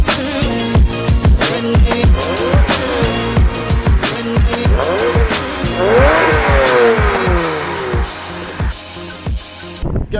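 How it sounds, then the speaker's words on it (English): A Volkswagen Touran drives past on a country road, its engine note loud and close with repeated rising and falling pulses before fading toward the end. "There's a car going past."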